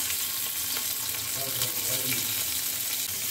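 Nigella seeds and green chilli sizzling in hot oil, a steady bright crackle with a few sharper pops and faint stirring clinks.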